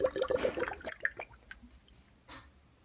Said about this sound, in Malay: tadahkan air dalam bekas.